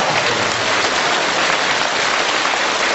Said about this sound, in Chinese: 你们每一个人鼓掌，我听起来像10个人鼓掌